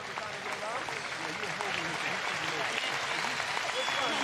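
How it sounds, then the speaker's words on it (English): Scattered applause from basketball players and the arena crowd during a 2002 men's college conference championship semifinal, a steady broadband patter with commentators' voices and crowd murmur mixed in. "Nice to see the Canisius players applauding."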